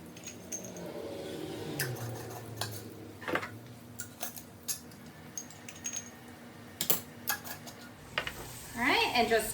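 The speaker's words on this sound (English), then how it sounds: "And just toss that around and get all of your spices incorporated and like tossed in the fats and the oils that are in here" Spices (allspice, cinnamon, cumin and turmeric) being tossed in fat and oil in a pot for a lamb and cranberry tagine, giving a soft sizzle under scattered utensil scrapes and knocks that grow louder toward the end.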